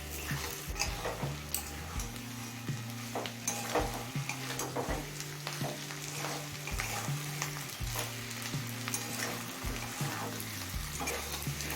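Bitter gourd and potato frying in fish oil in a pan over low to medium flame, a steady close sizzle with repeated rhythmic scraping and stirring knocks, no speech.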